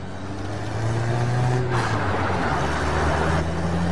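A car's engine hums steadily and loud from inside the cabin, with a low drone and some road rumble as it picks up speed; no one speaks.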